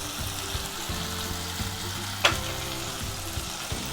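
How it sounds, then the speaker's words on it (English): Garlic cloves and ginger juliennes fry and are stirred in a kadai for kadai paneer. A soft, continuous sizzle runs throughout, broken by one sharp metallic clink of the spoon partway through. "We'll stir and cook it for a while, few minutes."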